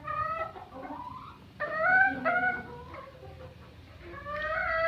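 Desi chickens on a Pakistani poultry farm give a run of close, clear clucks and squawks, with several birds calling over soft background noise and no talking.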